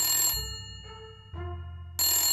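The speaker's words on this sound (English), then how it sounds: "Oh no, now the phone is ringing." An electronic phone ringtone sounds in bursts, with a steady tonal pattern that pauses and resumes, clear and fairly close.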